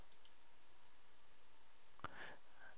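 A single sharp mouse click selects a tab in Windows 8 File Explorer, heard once near the end against a very quiet hiss.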